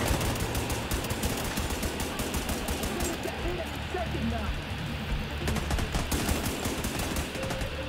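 Rapid bursts of automatic gunfire from a firefight in the video game The Division 2 crackle and rattle in clusters over a constant background din, with voices talking underneath.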